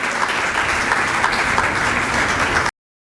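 Dense, steady applause from a church congregation at a Sunday service, loud and continuous for a few seconds before cutting off abruptly.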